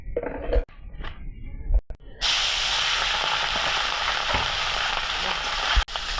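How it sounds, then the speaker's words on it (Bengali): Tengra fish frying in a pan, a few clatters and handling noises first, then a loud steady sizzle and hiss that fills the rest, close by, a brief voice early on. "এই যে ট্যাংরা মাছ ভাইজা নিতে আছি"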